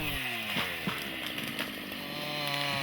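A chainsaw cutting trees in commercial plantation forestry, its engine whining steadily and rising in pitch as it revs through wood, heard at a moderate distance without any talk.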